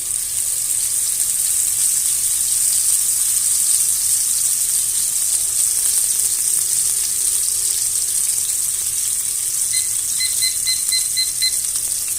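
A rib-eye steak sears in a hot cast iron pan, giving a loud, steady hiss and crackle that runs unbroken throughout, with no voices.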